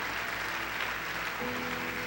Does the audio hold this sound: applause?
yes